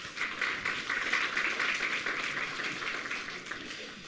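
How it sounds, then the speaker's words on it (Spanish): A church congregation applauds its choir during a Sunday service, a sustained even roar of many hands clapping at steady strength throughout. "Una vez más, por favor, vamos a dar fuertes aplausos."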